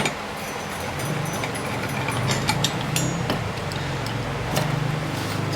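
Homemade grinding tool having its attachment removed, with quick irregular metallic clicks and ratcheting ticks over a low continuous hum, close by.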